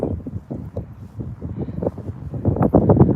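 Strong wind buffets the microphone outdoors among flowers in Denmark, a steady rumbling roar that swells louder toward the end with no clear voices.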